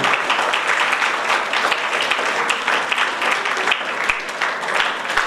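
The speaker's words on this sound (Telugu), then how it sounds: "అందరూ కూడా చప్పట్లతోటి వారికి అభినందనలు తెలుపవలసిందిగా కోరుతున్నాను" Dense, sustained applause fills a hall for several seconds at a disability school enrolment event held at New Ambedkar Bhavan, steady and loud with no voice rising above it.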